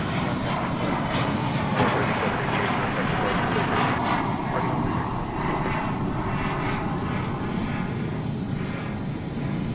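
An American Airlines Boeing 737-800 on Flight 1014 to Tucson rumbles at DFW Airport as a loud, continuous jet roar, close and unbroken throughout.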